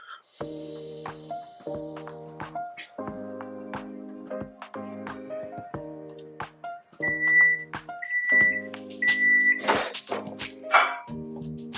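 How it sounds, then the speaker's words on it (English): A kitchen microwave oven hums steadily for about eight seconds while softening butter, then gives a series of short, clear beeps near the end; the sound is close and moderately loud, with no talking. "Maybe like 8 seconds on the microwave."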